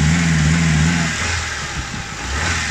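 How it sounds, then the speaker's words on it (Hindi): A Nissan twin cam 16-valve engine with a sensor fault and misfire revs unevenly, the rpm rising and falling in a rough, loud mid-pitched drone close by. "एक्सीलेटर दे के रखे। ये अभी देखें जी, आरपीएम अप डाउन कर रही है"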